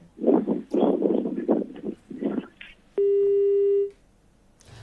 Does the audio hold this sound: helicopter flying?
no